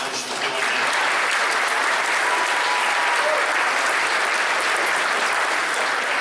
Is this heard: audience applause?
yes